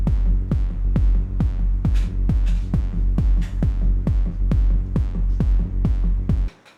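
A kick drum and bass line play together in Ableton Live: steady, loud, evenly spaced punchy kicks, about two per second, over a sustained deep bass. No voice, and the loop cuts off abruptly near the end.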